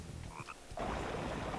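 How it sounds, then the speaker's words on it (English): A frog croaks in the Frogger PS1 video game, a short game sound effect that starts partway through and stays loud and steady to the end, with a lighter tonal chirp just before it. "There's a frog right there."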